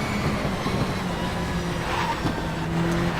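A turbocharged car engine in the racing game Race 07 drones steadily at moderate revs, a constant close hum with a faint rising whine and no talk.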